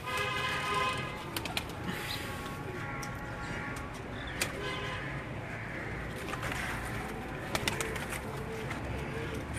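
Breeder pigeons in Mirpur, Azad Kashmir, coo repeatedly in soft, throaty calls over a constant noisy background, with a few sharper clicks and flutters scattered throughout.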